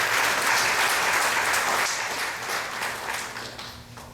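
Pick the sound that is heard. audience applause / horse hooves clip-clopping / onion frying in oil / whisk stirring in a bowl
audience applause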